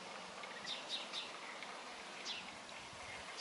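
European bee-eaters give short, faint, high calls in scattered bursts over a windy outdoor hiss near beehives.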